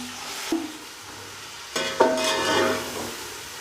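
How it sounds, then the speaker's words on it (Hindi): Chopped onions tipped into a pan of heated oil for Afghani palao, with a sharp clatter as they land, then a rising, steady sizzle and hiss of frying close by, with no voices. "मैंने एक पाव लिया है ऑयल लिया और उसको गर्म कर लिया। अब मैं ये प्याज डालने लगी।"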